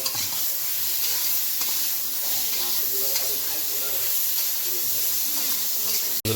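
Eggplant with turmeric sizzling and frying in a pan while being stirred, a steady loud hiss with faint scraping throughout.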